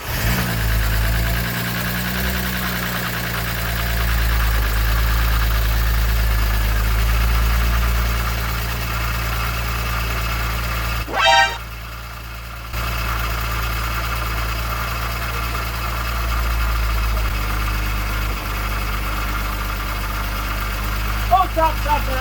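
Supercharged BMW E46 330i engine idling steadily, a continuous low rumble that holds even through most of the clip, close by, with a brief interruption midway and voices speaking over it.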